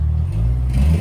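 A brief, close burst of low exhaust rumble from a 2010 Mazda Speed 3 with a CorkSport axle-back exhaust, a steady idle drone that swells slightly toward the end.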